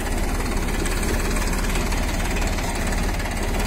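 A tractor runs a rotavator in 4th gear, its engine holding a steady, loud, continuous throbbing drone with a rhythmic knock throughout, nearby and alone.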